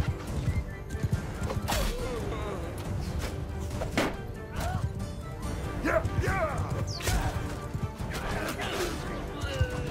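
Horses whinny and hooves clatter amid a chaotic castle siege in Mount & Blade 2, mixed with clashing, crashes and distant shouting of soldiers, loud and continuous with a voice speaking over it.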